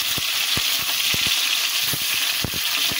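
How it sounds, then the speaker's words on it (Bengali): An egg fries in a pan with a dense, steady sizzle, near and fairly loud, broken by soft clicks of stirring or a utensil tapping the pan, with no talk. "ডিমটা হালকা করে ভেজে নেব"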